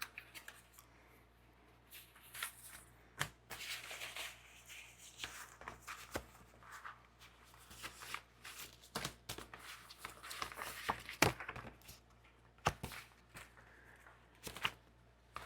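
Gift cards are handled and sorted, making faint scattered plastic clicks, taps and shuffling rubs at an irregular pace, quiet and close with no talk.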